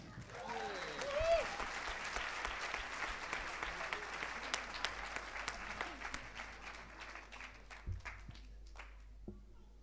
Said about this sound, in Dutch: Nou, nog één keer een applaus.